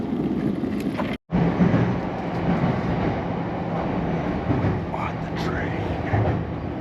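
A steady, loud rumble of a Tokyo-to-Kyoto bullet train in motion, heard from inside, with faint voices mixed into the continuous noise.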